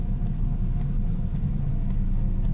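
Continuous low rumble of a car moving through traffic near roundabouts, steady engine and road noise throughout with faint higher clicks, no talking.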